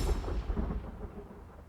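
Starting sound of a magic spell effect for an Unreal Engine game: a deep, thunder-like rumbling burst that swells briefly and then decays over under two seconds.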